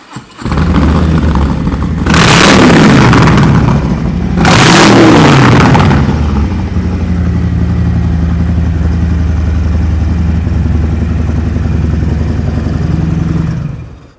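A 2020 Harley-Davidson FXLR Low Rider with a 107 cubic inch, 1,745 cc Milwaukee-Eight V-twin idles with a deep rumble, revs hard twice in quick succession, then settles back to a steady, loud idle.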